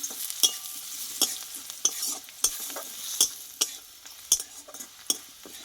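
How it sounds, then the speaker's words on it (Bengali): Gentle sizzling of spices with ground coriander frying in a pan, with regular sharp clinks and scrapes of a spoon stirring, fairly quiet and close. "এই মশলাটা আমি দিয়ে এইভাবে ভালোভাবে ভেজে নেব একটু"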